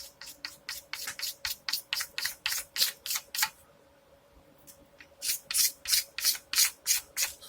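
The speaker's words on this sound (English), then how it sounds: "Flatten those screw holes off at the same time, just with the scraping it with the razor blade" A razor blade scrapes a guitar body in quick, rhythmic strokes, close and crisp, then pauses for about two seconds before another run of even scraping strokes.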